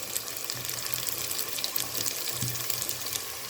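Chopped onions and green chillies sauté in hot oil in a pan for vegetable biryani, giving a soft, continuous hissing crackle, fairly quiet and steady throughout.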